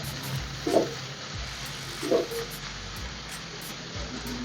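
Sliced onion and a pinch of fennel seeds sautéing in a hot pan, a continuous close sizzle with two brief louder bursts as the onions are stirred, no voices.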